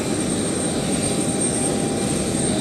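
An aircraft departing London City Airport gives a steady, loud broadband engine roar with a constant high whine running through it and no pauses.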